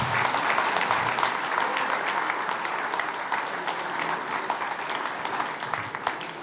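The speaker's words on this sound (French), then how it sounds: "Donc je pense qu'on peut les applaudir," An audience claps steadily at an amateur painters' exhibition opening in Les Portes-en-Ré, sustained applause filling the room for several seconds without voices over it.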